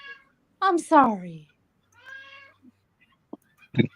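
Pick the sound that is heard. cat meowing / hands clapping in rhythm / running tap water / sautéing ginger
cat meowing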